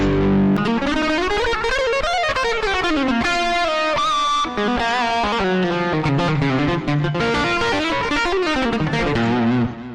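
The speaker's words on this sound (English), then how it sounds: "I just wanted to start off with a distortion sound" A heavily distorted electric guitar plays a continuous riff with sliding, bending notes, loud and sustained from start to finish.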